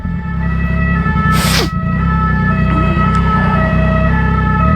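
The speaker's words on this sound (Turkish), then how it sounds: "Ambulansın sesini duyunca herkes duruyor olduğu yerde." An ambulance siren wails steadily over a dense bed of traffic rumble and engine noise on city streets in France, heard close from a motorcycle, with no talking.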